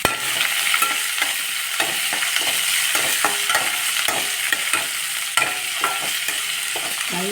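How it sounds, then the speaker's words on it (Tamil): Onion frying for radish chutney makes a constant bright sizzle in a pan, punctuated by frequent close clicks and scrapes of stirring throughout. "அடுத்தது வெங்காயம் போடலாம். ஒரே ஒரு பெரிய வெங்காயம்."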